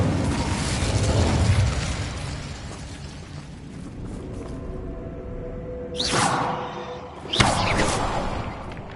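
Incendio fire spell cast in a Hogwarts video game: a roaring, crackling whoosh of flame followed by two sharp rising swooshes near the end.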